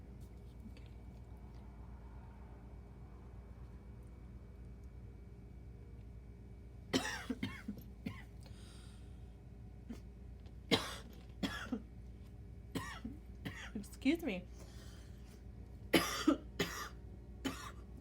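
A woman doing a manicure coughs and clears her throat in a string of sharp, close bursts over about ten seconds after a quiet start, and she briefly speaks.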